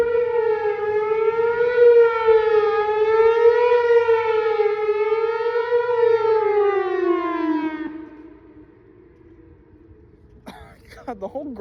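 Civil defense storm siren blaring ahead of an approaching storm, its wavering tone sliding down and dying out partway through, followed by a brief cough or throat clearing nearby.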